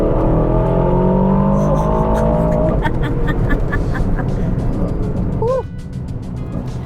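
A 2023 Aston Martin DBX707 engine pulling hard under acceleration, a loud sustained exhaust roar with rising tone, followed by quick gear-change blips and a settling drone near the end.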